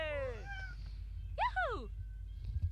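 A cat meows in a life simulation video game: two clear, drawn-out meows, the first longer and falling in pitch, the second shorter and rising then dropping, over a low constant background hum.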